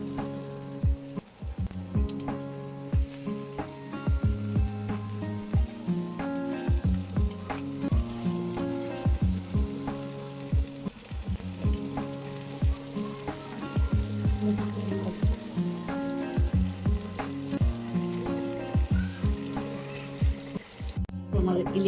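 A hilsa fish tail and eggplant slices fry in a pan with constant loud sizzling, broken by repeated sharp clatters of a utensil stirring and scraping against the pan.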